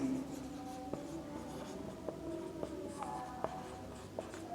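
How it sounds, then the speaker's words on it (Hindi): Handwriting on a classroom board during a Class 10 physics lesson on sign conventions for light, heard as a steady soft scratching with regular sharp taps and strokes, close and alone without talk. "हम इसको यहाँ से लिख देते हैं।"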